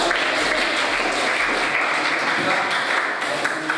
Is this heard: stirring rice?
no